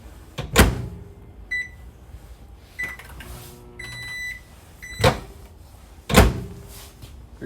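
Microwave oven in an RV kitchen being operated: several sharp clicks and clunks of the door and buttons, short high electronic beeps, and a brief low hum between them, all close and without talk.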